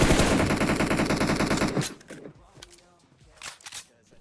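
Rapid automatic gunfire in the mobile battle game PUBG Mobile rattles loudly for about two seconds, then gives way to scattered fainter shots and clicks.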